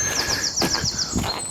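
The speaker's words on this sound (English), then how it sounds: "Again, you can hear the birds singing." Woodland birds sing in a heathland nature reserve, with a bright repeated trill and scattered chirps a short distance away, steady and clear with no voices.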